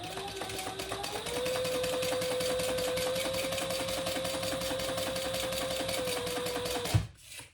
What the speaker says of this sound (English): And I'll backstitch.